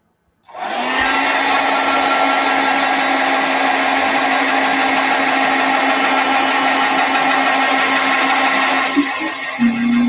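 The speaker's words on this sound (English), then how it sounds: "I'm just going to heat set this a little bit too." A heat tool blows continuously at close range to heat-set paint, a loud, steady whirring hum with a pitch shift near the end, no talking.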